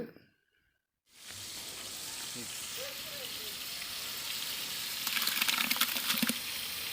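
Tomatoes sauté in a pan for country chicken biryani, giving a steady close sizzle after a brief silent start, with a few scraping stirs and brighter crackling bursts toward the end.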